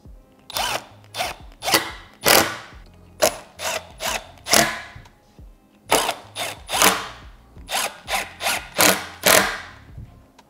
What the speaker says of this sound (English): So I've got my T20 bit with my screw, and I'm going to attach from the back.